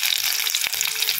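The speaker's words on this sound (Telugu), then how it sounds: "మనం ఆల్రెడీ ఆయిల్ పెట్టాం కదా, ఆయిల్లో మిరపకాయలు" Chillies fry in hot oil for a tempering, a bright close crackling sizzle with one sharp pop near the middle, heard alone without speech.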